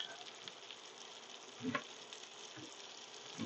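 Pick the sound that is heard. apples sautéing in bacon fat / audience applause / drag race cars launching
apples sautéing in bacon fat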